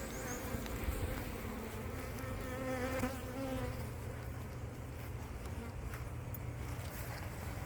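Honeybees from a colony in a shed floor buzz continuously in a dense, close swarm drone, with no speech over the steady hum.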